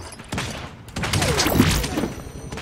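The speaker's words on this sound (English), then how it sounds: "I hear shooting behind me" Gunfire crackles in a video game match as a ragged burst of sharp shots, some nearby and some farther off, mixed with movement thumps and mechanical clatter.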